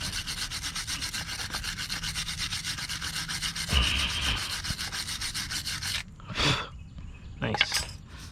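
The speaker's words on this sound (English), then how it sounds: "Get a wire brush, and we're going to clean up these mounting points." Wire brush scrubbing the brake mounting points on a 2015-2019 Subaru Legacy front brake, a steady close rasping rub for about six seconds, then a few separate short strokes.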